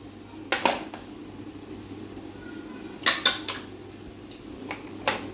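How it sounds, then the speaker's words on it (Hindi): Metal spoon clinking against a bowl while marinated meat is mixed with salt, black pepper and garam masala, a few sharp clatters in short clusters over a quiet background hum. "अब हम इसको अच्छी तरह मिक्स करेंगे"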